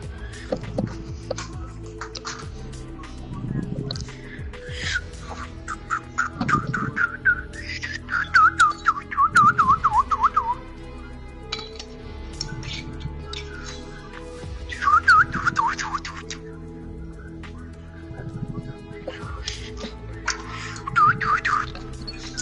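A person whistles a wavering, sliding tune in several bursts during a Fortnite session, with game sounds underneath and some background voices.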